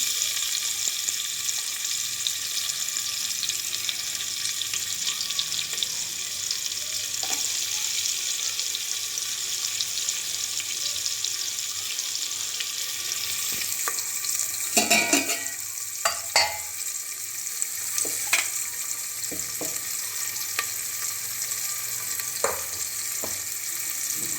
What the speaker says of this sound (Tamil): வெங்காயம் சேர்க்கணும். நீட்ட வாக்கில் வெட்டியிருக்கோம்.